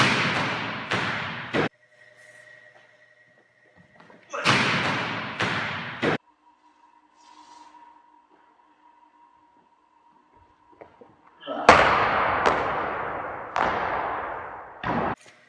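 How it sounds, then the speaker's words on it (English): Volleyball jump serves, with three bursts of sharp hits and thuds, each cluster a hard smack followed by bouncing impacts, separated by quiet gaps with faint room tones, nearby and loud, no talking. "So this is what my jump serve looks like."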